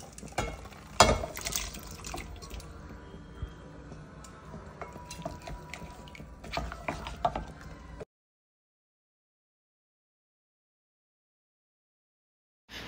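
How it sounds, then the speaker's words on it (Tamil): Water pours into a pot of cooked mutton on the stove, a steady liquid splashing and filling for about eight seconds with small clinks, then stops into silence. "தண்ணி நம்ம ஊற்றிருக்கோம் பார்த்தீங்களா"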